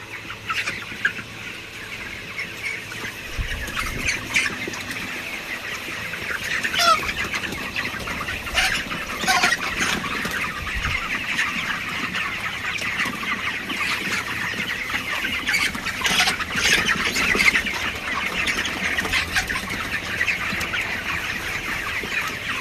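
A flock of chickens clucks and squawks continuously nearby, with bursts of wing flapping rising and falling throughout.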